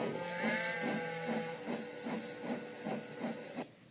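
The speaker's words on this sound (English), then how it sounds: "The cold air was sizzling through the hole where his dome should be" A steady high hiss of air escaping through an opening, with a faint rhythmic chugging pulse underneath, ending abruptly.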